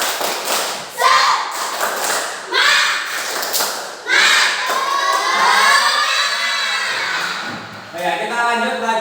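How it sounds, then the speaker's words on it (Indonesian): Schoolchildren in a classroom clap a rhythmic spirit cheer in quick bursts of hand taps and thumps, with young voices chanting along between claps. "Ayo kita tepuk semangat dulu."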